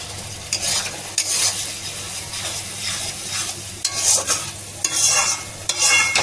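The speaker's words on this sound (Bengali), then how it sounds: "একটুখানি ভালো করে একটু কষিয়ে নেবো, মশলার গন্ধটাকে ছাড়বো, কষিয়ে নেবো" Onion, chilli and spices stir-fry in a pan over a high gas flame, with repeated loud scraping stirring strokes over a continuous close sizzle.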